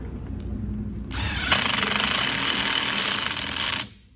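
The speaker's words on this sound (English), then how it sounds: "you can break your screws using an impact driver like that" An impact driver sets screws into wood while building face frames: after a low hum, a loud rapid hammering whir starts and holds for about three seconds before cutting off.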